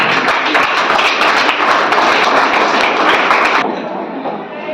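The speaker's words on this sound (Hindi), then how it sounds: "इनके लिए तालियां।" A classroom of students claps for a classmate who answered general-knowledge questions well. The clapping is loud and dense, then cuts off abruptly into quiet room tone.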